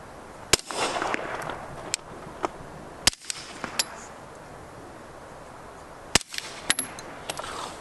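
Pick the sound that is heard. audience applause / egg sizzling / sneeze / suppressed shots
suppressed shots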